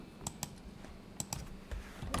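Computer keyboard typing while entering a web search, a few scattered key clicks in two loose bursts, close and fairly quiet over a low room hum.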